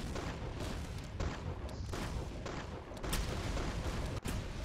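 Repeated booming gunshots in the Roblox-style shooter Arsenal during a boss fight, heavy blasts and bursts firing one after another at a fairly steady pace, fairly loud with no talk over them.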